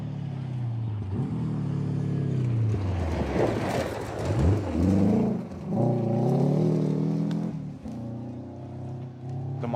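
A Mazda rally car passes on a gravel rally stage, its engine note rising and falling with rev changes as it approaches, goes by close and loud, then fades, with gear shifts audible in the steady roar.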